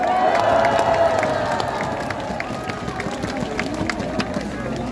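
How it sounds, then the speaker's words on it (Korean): A crowd at a Korean political rally cheers and applauds a former provincial governor being welcomed on stage, a steady roar of clapping and voices filling the whole stretch. "박수 크게 한번 보내주세요"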